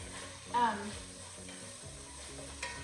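Sausage browns in a pan for keto gumbo with a soft, continuous sizzle, and a few faint stirring or scraping sounds sit on top. Faint voices or background noise drift in and out around it.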